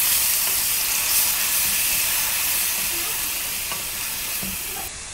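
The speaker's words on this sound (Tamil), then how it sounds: "வெங்காயத்தை நல்லா வதக்கிட்டோம்." Onion paste fries in hot oil in a pan for chole masala, giving a steady, close sizzling hiss that carries on without a break and fades slightly near the end, with no talking.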